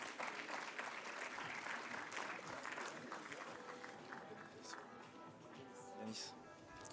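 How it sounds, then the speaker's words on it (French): A crowd applauds a competing team at a French city innovation showcase, dense steady clapping that fills the room at moderate distance and tapers slightly toward the end. "l'équipe Veolia, qu'on peut applaudir également chaleureusement"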